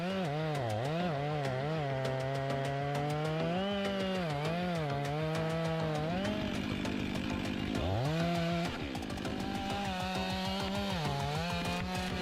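A large MIS 500E felling chainsaw machine cutting giant trees: a loud continuous engine whine rising and dipping in pitch as the saw bites and revs, no voices.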